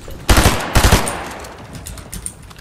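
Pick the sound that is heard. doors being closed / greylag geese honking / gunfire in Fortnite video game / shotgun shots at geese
gunfire in Fortnite video game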